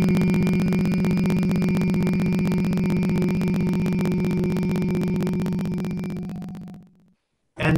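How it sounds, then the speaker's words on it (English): Humming exhalation in a breathing technique: one long steady voiced hum held for about seven seconds, fading out, then a brief fresh hum starting after a pause. "and then start the humming again."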